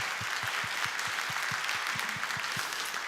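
A church forum audience claps steadily to welcome guests, with dense applause running the whole time alongside a regular low thumping beat.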